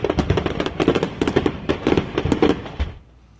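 A stash of professional-grade fireworks exploding inside a home in Ontario, Southern California: a fast, crackling barrage of sharp pops and bangs that goes on for a few seconds, then cuts off into a quiet tail.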